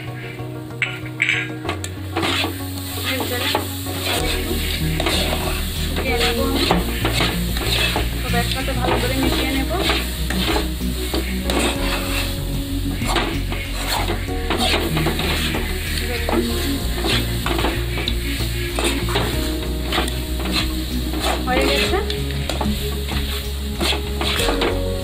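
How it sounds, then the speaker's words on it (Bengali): A spoon stirs a Gobindobhog rice sandesh mixture in a pan as the water cooks off, giving continuous close scraping and clatter against the pan over a soft sizzle. "যতক্ষণ জল শুকাবে না ততক্ষণ এইভাবে নেড়ে নিতে হবে, না হলে নিচে লেগে যাবে।"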